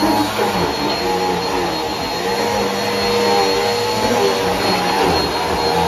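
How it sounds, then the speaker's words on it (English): Vacuum cleaner running steadily at close range, drawing in broken glass with a continuous loud whine and roar that holds level throughout. "You guys should probably vacuum it up."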